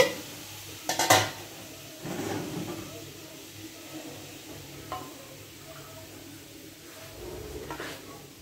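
Semolina lightly frying in a pan: soft, quiet sizzle with a few clinks and scrapes of a spoon against the pan, a louder rattle near the start, otherwise low and sparse.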